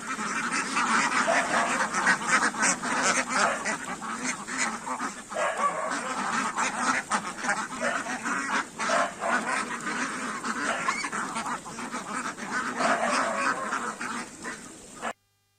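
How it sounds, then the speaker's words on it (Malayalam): A flock of ducks feeds in paddy fields, and many birds quack continuously and close by. The dense overlapping calls last about fifteen seconds and are heard alone, with no talking. "വള്ളൂനാടൻ പാടങ്ങളിൽ തീറ്റ തേടി താറാവിൻ കൂട്ടങ്ങളെത്തി."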